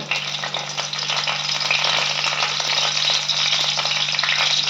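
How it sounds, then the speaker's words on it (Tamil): Curry leaves fry in hot sesame oil with a loud, dense, continuous sizzle and crackle, close and steady throughout with no talking. "நல்லெண்ணெய் ஊற்றிக்கிங்க நான் ஒரு ரெண்டு கரண்டி ஊற்றிக்கிறேன் கருவேப்பிலை போட்டுக்கோங்க"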